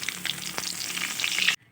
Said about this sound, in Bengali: এবার মাছের মাথাগুলো তেলে দিয়ে ভালোভাবে ভেজে নেব।